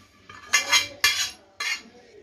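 A spoon stirring paste into a mixture for gond laddu, three bursts of metallic scraping and clinking against a vessel, close and clear, with short pauses between.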